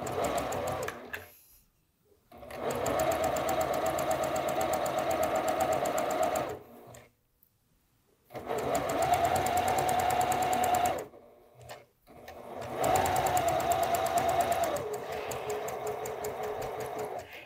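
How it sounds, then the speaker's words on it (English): A sewing machine stitches quilt wedges of fabric from the wide end toward the narrow end, running in three long steady bursts separated by short pauses, close and clear with no talking. "when I'm sewing these wedges, I'm going to sew them from the wide end toward the narrow end."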